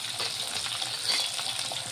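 Garlic and sliced long green chillies fry in a pan with a steady, close sizzle and soft crackle, continuous and fairly loud with no talking.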